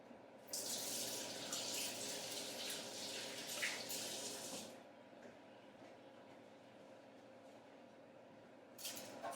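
A kitchen tap runs while hands are washed under it, a close, rushing splash lasting several seconds before it stops, then a short burst of water again near the end.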